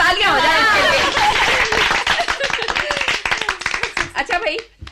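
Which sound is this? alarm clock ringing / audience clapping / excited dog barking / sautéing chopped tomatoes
audience clapping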